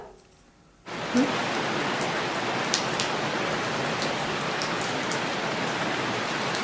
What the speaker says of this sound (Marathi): पाऊस होताच बाहेर सतत.